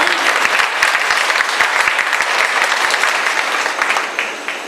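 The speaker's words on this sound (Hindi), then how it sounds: "पत्नियों ने ताली जोर से बजाई" A crowd applauding loudly, dense continuous clapping that holds steady and then begins to taper off near the end.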